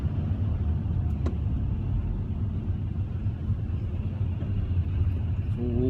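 Big lorry rumbling along the road, a low continuous engine drone with road noise holding steady throughout, fairly close and moderately loud.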